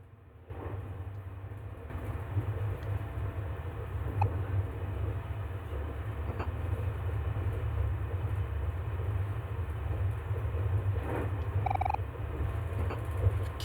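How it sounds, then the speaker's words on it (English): A train ride in the video game OMORI: a steady, low rolling rumble that carries on throughout with a few faint clanks on top and no voices. "All aboard the cursed train."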